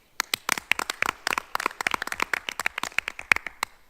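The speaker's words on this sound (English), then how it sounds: "One other big round of applause." A round of applause at a school board meeting: scattered, fairly quick claps from a small crowd, close and moderately loud, lasting several seconds with no talking.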